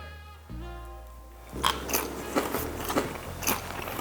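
Crisp, loud crunches of someone biting and chewing crispy fried pork up close, several crackling bites in a steady rhythm after a brief hum.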